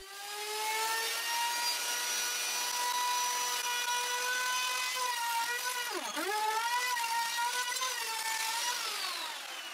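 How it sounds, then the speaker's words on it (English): Trim router running a flush-trim bit around the edge of a plywood board, cutting away overhanging marquetry veneer: a steady, loud high-pitched motor whine with harmonic tones that dip briefly as the bit bites into the wood, with no talking. "I use a trim router bit to trim the marquetry all around the plywood board"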